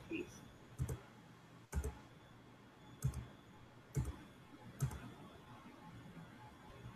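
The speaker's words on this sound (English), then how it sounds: "Just click on that and press paste." A computer mouse gives about five sharp, isolated clicks spaced roughly a second apart, quiet and close against a faint room background.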